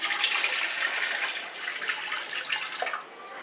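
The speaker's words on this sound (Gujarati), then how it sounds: "તેમાં આપણે પાણી નાખી દઈશું" Water is poured from close by into a large pot set up on a stand for steaming khaman, a steady splashing stream for about three seconds that then stops.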